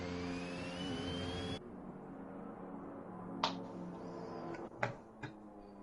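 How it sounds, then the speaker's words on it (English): A Ferrari engine in a racing video game during a Bahrain race, a rising whining drone at first that drops away abruptly, leaving a quieter hum broken by a few sharp bursts. "I actually have car noise. How did that happen? I don't know, but full Ferrari engine purring."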